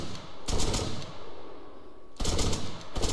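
Two bursts of rapid automatic MK20 rifle fire in Arma 3, the first running about two seconds and the second starting shortly after, loud and close with sharp repeated shots.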